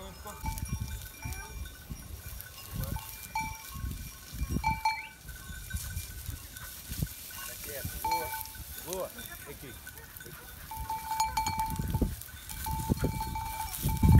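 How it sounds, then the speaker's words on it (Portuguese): A herd of goats grazing outdoors, with scattered bleats and what may be a cowbell over a low rustling background, while people talk now and then. "Isto é tudo cabras"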